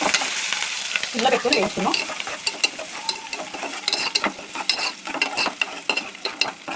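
Onion and green chillies dropped into hot oil with dried red chillies and tempering spices, sizzling steadily while a spoon stirs and scrapes the pan; close and fairly loud, with a brief spoken line over the frying.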